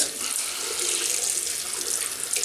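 Running tap water pours steadily into a sink for rinsing during a shave with a double-edge razor and shaving cream, a close, continuous hiss with no pauses.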